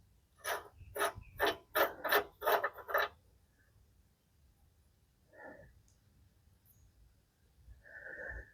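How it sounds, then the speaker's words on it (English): A wrench ratchets as a nut and washer are tightened down on a trailer, giving about seven quick, close clicking bursts, followed by a few faint, scattered scrapes and rubs. "Washer on here with the nut, and we'll tighten the sucker down."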